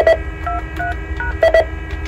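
A Bogen UTI1 telephone interface sounds a fast series of short electronic tone bursts over a steady low hum, the pattern repeating twice with brief pauses.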